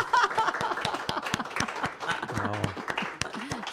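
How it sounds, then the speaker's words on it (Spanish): An audience at a Spanish-language talk by Don Handrick bursts into dense, steady applause that fills the whole stretch, with a voice and a little laughter mixed in near the end. "Pero sí para un aplauso"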